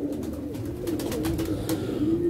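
Low, rolling coos from pigeons carry on steadily up close, with faint rustling and light clicks mixed in over the continuous murmur.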